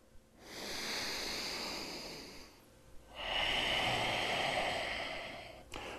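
Two long, loud breaths held during a standing yoga pose, each a steady breathy rush lasting a couple of seconds, separated by a short pause and ending in a quick sharp exhale.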